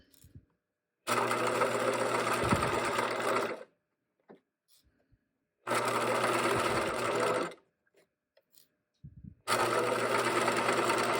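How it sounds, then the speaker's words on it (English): Sewing machine running forward along a marked pants seam line, three sustained bursts of steady rapid stitching separated by quiet pauses, close and loud with no talk. "no back stitching, just going forward on my marked line"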